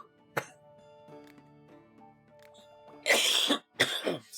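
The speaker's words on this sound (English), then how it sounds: "Oh, I'm coughing in the store." A person coughs hard twice in quick succession near the end, harsh and close, after a quieter stretch with faint background sounds and a brief earlier throat noise.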